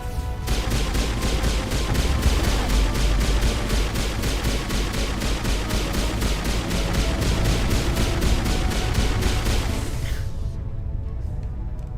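Rapid turret gunfire in the video game Mass Effect, a fast unbroken rattle of shots that runs loud and close for about ten seconds and then cuts off abruptly, leaving a faint tail.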